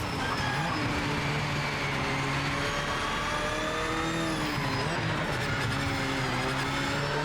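A race car engine from the video game Project Motor Racing drones steadily with a held, even pitch that rises and falls slightly through gear changes, loud and continuous without any voices.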